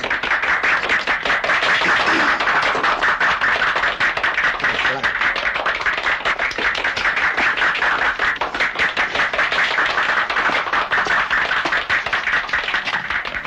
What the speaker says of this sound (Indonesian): Tepuk tangan untuk Miss Eni Haryono